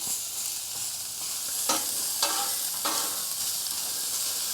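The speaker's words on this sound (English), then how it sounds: "let these onions brown just a little" Onions browning in a pan for a patty melt, a constant close sizzle broken by a few short stirring scrapes, with no voices.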